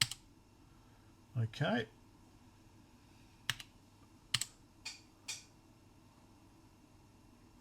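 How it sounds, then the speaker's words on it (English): Keys click on a Minstrel 2 ZX80 clone gaming keyboard: a quick cluster of presses, then a few sparse, separate clicks heard close in a quiet room. A voice speaks briefly. "You got to remember not to type too fast."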